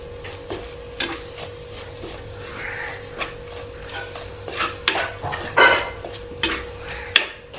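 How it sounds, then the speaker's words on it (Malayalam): Tamarind water poured into a hot pan over a wood-fired stove sizzles and hisses, with scraping stirs and metal clinks of a spoon against the pan; a steady background hum runs underneath and no one speaks. "ഇച്ചിരിച്ച പുളിവെള്ളം ഒഴിച്ചു കൊടുക്കാം"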